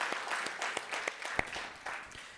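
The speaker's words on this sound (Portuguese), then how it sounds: "Quem crê nisso, aplauda o Senhor porque Ele é digno." Church congregation applauding the Lord during a celebration service, a fairly quiet wash of scattered hand claps from many people with a few sharper nearby claps, no voices.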